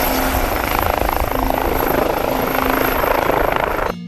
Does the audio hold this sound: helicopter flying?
yes